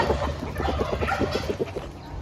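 Chickens cluck and squawk in a repeated burst of short calls at a ranch over breakfast, set against steady low farmyard noise with no talking.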